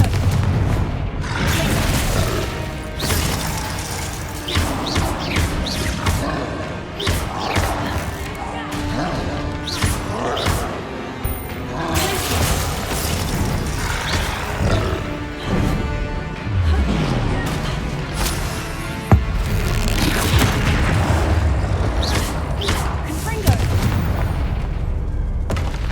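Repeated booming blasts and crashes from Confringo fire spells in the Hogwarts Legacy game layer over dense game music and effects, loud and continuous, with some speech mixed in.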